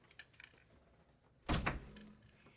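A room door swings shut with a single solid thunk of moderate loudness near the middle, set against quiet indoor room tone with a few faint bumps beforehand.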